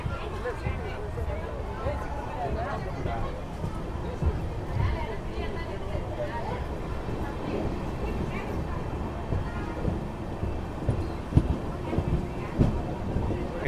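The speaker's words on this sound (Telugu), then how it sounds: "సో చిత్తూరు నుంచి మన ట్రైన్ అయితే బయలుదేరిపోయింది." A passenger train rolls out of Chittoor toward Katpadi Junction with a low, continuous rumble and scattered wheel clatter, while voices and murmuring carry on over it throughout.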